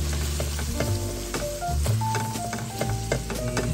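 Ginger sizzles in a hot pan, a loud close crackling hiss with scattered pops and occasional stirring scrapes, steady throughout and without talking.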